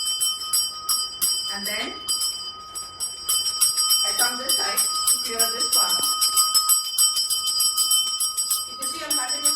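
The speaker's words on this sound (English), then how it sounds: "If you see I'm continuously ringing the bell, this will distort the energy." A handheld bell rung continuously during a smudging ritual to cleanse a room, bright repeated rings sustaining through the clip while someone talks over it.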